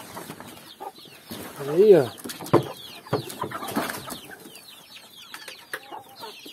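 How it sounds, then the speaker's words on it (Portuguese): Chickens cluck and call inside a chicken coop in a home garden, close and irregular with several overlapping birds, while a person speaks briefly among them. "Vamos entrar aqui no nosso galinheiro. As galinhas agora vai ficar tudo importante."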